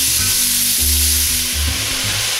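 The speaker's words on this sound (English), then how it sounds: "while I've been sauteing the onions and the carrots" Onions and carrots sauté in a pan for a beef bourguignon, giving a loud, steady sizzling hiss with a low tonal hum underneath, close and continuous with no talking.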